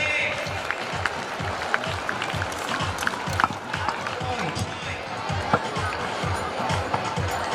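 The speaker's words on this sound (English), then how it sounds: "ताली बजती रहनी चाहिए." An audience at an annual school sports day at Carmel School, Rourkela, claps in a steady rhythmic beat, loud and continuous, with voices talking over it.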